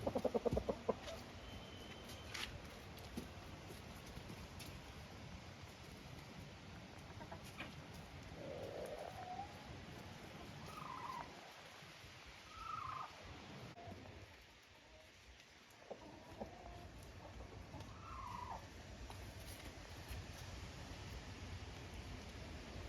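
Hens cluck softly in a henhouse, scattered short calls rising here and there over a steady rain-like hiss, fairly faint and spread across the whole stretch, with no speech.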